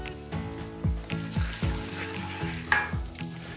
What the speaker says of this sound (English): Once the butter is sizzling